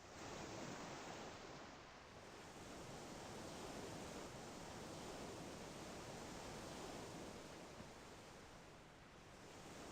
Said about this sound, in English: now you should hear like an ocean shore.